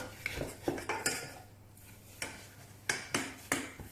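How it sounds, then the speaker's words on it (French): A spoon or spatula works choux pastry dough in a pan over low or no heat, giving a series of close, sharp metallic clinks and scrapes in irregular bursts with quieter gaps between. "On mélange bien."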